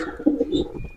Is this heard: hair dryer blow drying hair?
no